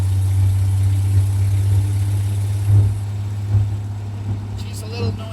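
A 1953 Hudson Super Wasp idles steadily with a worn, leaky exhaust, a loud continuous low rumble with occasional small surges, close by and without talk over it.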